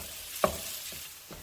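Mexican-style chorizo sausage being broken apart and cooked in a pan, with a steady soft sizzle and one distinct utensil clack followed by fainter scrapes. The sound is close and brief, and no one speaks.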